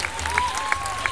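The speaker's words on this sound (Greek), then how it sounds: "Ένα θερμό χειροκρότημα λοιπόν." Audience applause at an international dance festival in Athens, a steady wash of many hands clapping with a few sharper claps standing out, heard through a sustained tone.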